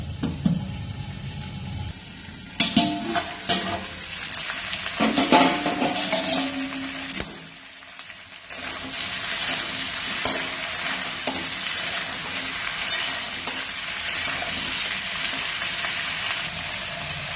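Pui greens frying with a hilsa fish head in a pan, a loud continuous sizzle broken by stirring clatter and a brief lull, then the hiss resumes steadily and strongly.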